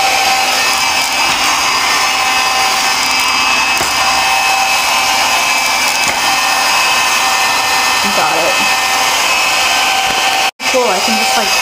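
A cordless vacuum cleaner runs continuously at close range with a steady high whine and motor hum, and a brief cutout near the end.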